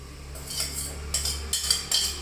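Paneer pieces go into gravy in a scorched kadhai, with metal spoon scrapes and soft clinks against the pan coming in short bursts close by, no talking.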